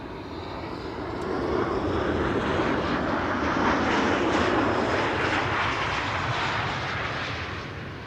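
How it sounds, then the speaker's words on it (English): A Transavia airliner on a flight from Preveza arriving at Amsterdam Schiphol airport, its engine roar building steadily to a broad, sustained rumble and then holding loud for several seconds, with no talk. "This is Transavia flight 5792 arriving from Preveza."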